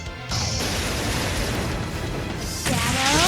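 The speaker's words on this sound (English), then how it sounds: "Big explosions, big damage." Loud, dense explosions in the video game Trails of Cold Steel 2 roar almost without pause, a thick wall of crashing noise that briefly thins before swelling again.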